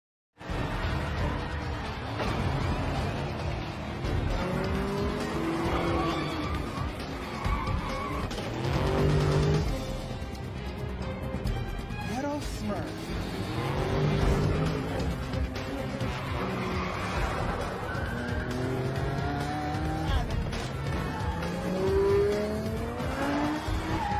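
Street race cars from Fast and Furious 4 roar past with revving engines, tire squeals and skids, layered with dramatic film music and effects throughout.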